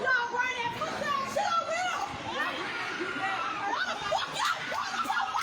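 A noisy crowd with overlapping shrill voices, shouts and high-pitched screams rising and falling throughout, close and loud.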